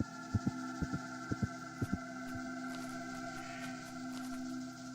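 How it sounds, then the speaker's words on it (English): A strong heartbeat in a low-poly horror video game thumps in paired beats, several times in the first two seconds and then more faintly, over a steady low droning hum. "You do hear a very strong heartbeat coming from inside there."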